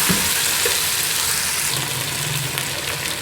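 Crushed green chillies frying with chicken in a hot pan, a continuous bright sizzle with faint stirring scrapes, close and steady, no talking.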